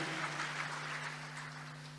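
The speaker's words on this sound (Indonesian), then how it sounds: "Kasih tepuk tangan yang dahsyat buat Tuhan kita." Applause from a church congregation, a steady broadband wash of many hands clapping together, fairly distant and even throughout, with a low constant hum underneath.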